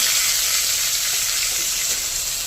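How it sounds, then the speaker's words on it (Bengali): Garlic and chopped tomato fry in a pan, giving a loud, dense, continuous sizzle close up with no pauses and no talking. "ভালো করে রসুনটা একটু ভেজে নেব। এবার দেবো একটা টমেটো কুচি"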